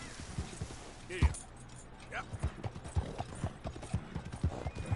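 A horse in Red Dead Redemption 2 clip-clops along in a steady, close walking rhythm, with a brief snort or whinny partway through and someone talking over the hoofbeats.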